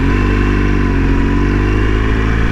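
A 2016 BMW R 1200 GS Adventure boxer-twin engine under way, a loud, steady low drone with a constant rumbling pulse and slight pitch drift while riding.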